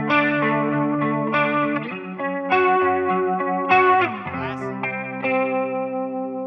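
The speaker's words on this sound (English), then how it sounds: "The Levitation by Earthquaker, which is a very fancy spring reverb." Electric guitar played through an Earthquaker Levitation spring reverb pedal, sounding in a run of sustained, shimmering chords and notes with a lush washed-out tail, steady and close, with no talking.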